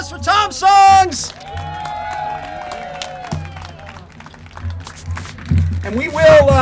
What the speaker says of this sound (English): Big round of applause for Tom Songs.